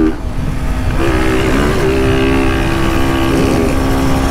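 A Honda Start 160 motorcycle engine running without its air filter revs up loud and close, a raspy throbbing drone rising in pitch and holding, with short climbs and dips between throttle blips.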